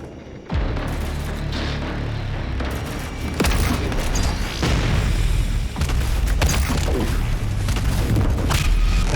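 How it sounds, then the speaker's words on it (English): Gunfire and heavy booms in Doom Eternal, loud and dense, pounding steadily under a thick roaring combat mix with repeated sharp impacts. "The shooting is coming from up here, right?"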